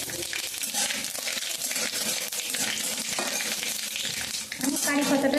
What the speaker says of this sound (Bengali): সর্ষে আর শুকনো লঙ্কা দিয়ে দিচ্ছি।